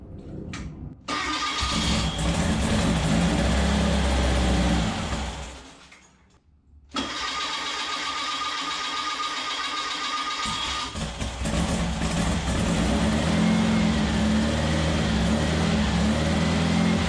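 A freshly built 1776cc engine cranks and catches, running loud and rough, then stumbles and dies briefly before restarting and settling into a steady, close, noisy idle.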